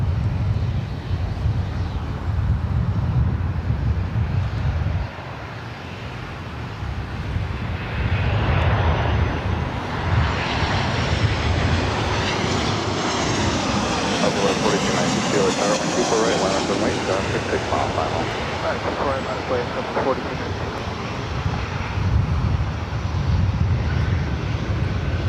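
Southwest Airlines jet at LAX rumbling past with a broad, loud engine roar that swells and sweeps across the middle of the pass, wind buffeting the microphone throughout, with no talk over it.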